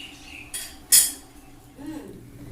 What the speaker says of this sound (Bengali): এবারে আমি একটি ঢাকনা দিয়ে কড়াইটা ঢেকে দেব